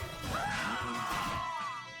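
A car slams into a pole in the Sleeping Dogs video game, giving one loud crunching crash with a grinding, screeching tail that lasts about two seconds, close and alone.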